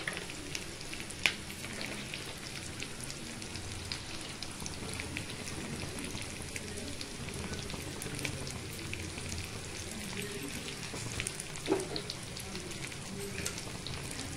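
Capsicum and tomato sauce sizzle steadily in a pan with prawns, a continuous crackling fry with a couple of brief utensil knocks, close and even throughout.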